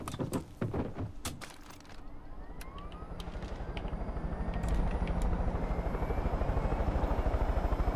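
A helicopter in the video game Far Cry 5 spins up after a few clunks and clicks, its rotor chop growing into a loud, steady, rhythmic thumping whine close by.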